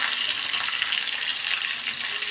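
Steady, dense sizzling of onions sautéing in a hot pan, a continuous crackling hiss with no pauses and no voices.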